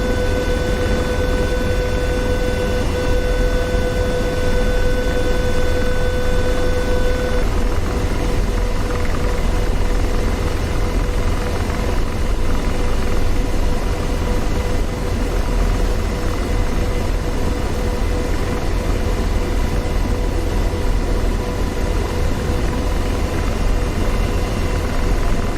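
An AH-64D Apache helicopter in DCS World makes a low pass with slowing speed and falling altitude, a steady loud rotor and turbine roar throughout with a brief high whine early on, and no talk.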